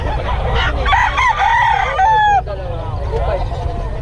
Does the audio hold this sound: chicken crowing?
yes